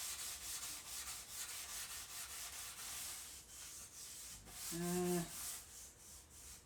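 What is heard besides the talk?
light scuffing of dried wood with Scotch-Brite pad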